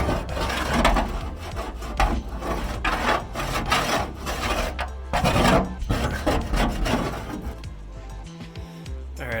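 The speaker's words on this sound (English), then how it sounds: "I got this little pick and I'm just doing a final scrape" A small hand pick scrapes rust from the roof seam of a Sprinter van, giving repeated close, rough rasping strokes in an uneven rhythm.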